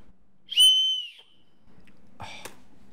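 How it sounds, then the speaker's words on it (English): A loud, shrill whistle blast lasting about half a second, followed by a short rattling rustle over a quiet background. "We got an emergency whistle."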